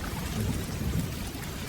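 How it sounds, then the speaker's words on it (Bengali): Heavy rain pours down in a dense, steady wash with a low rolling thunder rumble beneath it, a fairly quiet storm sound effect with no voices. "চারপাশে ঝোড়ো বাতাস, কাঁচা রাস্তা একেবারে কাদায় ভরে গেছে।"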